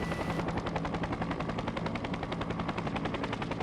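Simulated helicopter from an augmented-reality RC vehicle app on iOS: a steady, rapid rotor chop pulses loudly and evenly throughout, close and alone without talk.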